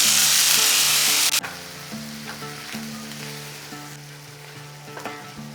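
A poppy seed paste cooks with water in a pan. A loud hiss cuts off abruptly, and a softer simmering sizzle follows with occasional spoon clinks and a low steady hum underneath.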